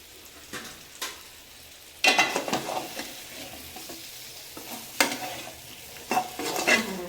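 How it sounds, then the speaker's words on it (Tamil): A ladle stirs potato fry in a pan over a low flame: scattered scraping strokes over a soft, continuous sizzle, with sharper clatters and bursts of stirring in the second half and no talking. "இது நல்லா லோ ஃப்ளேமில் கொஞ்சம் நேரம் வச்சுருக்கோம் அடிக்கடி நம்ம இதுமாரி கரண்டி வச்சு கலரி விட்டுகிட்டே இருக்கணும்"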